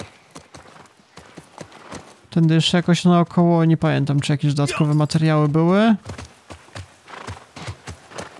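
Horse hooves clopping in The Last of Us Part 1, a steady rhythmic beat that runs under Polish speech from start to end, with a loud horse whinny or vocal burst in the middle.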